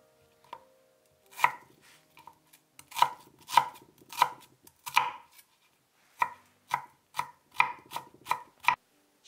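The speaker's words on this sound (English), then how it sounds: "Mince 2 shallots." A knife mincing two shallots on a cutting board, with crisp close knocks in uneven runs and short pauses between them.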